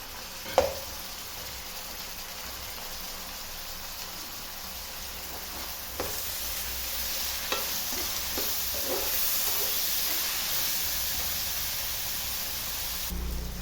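Bottle gourd curry with tomatoes and salt sautés in a pan, a steady soft sizzle running continuously, with a few light clinks of a spoon against the pan over the frying hiss.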